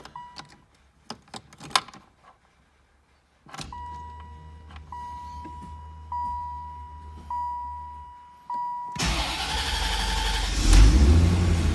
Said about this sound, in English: I'm going to try to start this again.